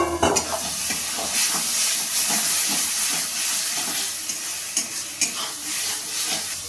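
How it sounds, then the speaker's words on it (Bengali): Fried potatoes and masala cooking down in fish-frying oil for a spicy rohu fish curry, a loud continuous sizzle and hiss with a steady run of scraping stir strokes close by, and no talking. "আর এখানে মাছের একটু তেল আছে, সেটাও আমি দিয়ে আবার মশলাটা ভালোভাবে কষিয়ে নেব।"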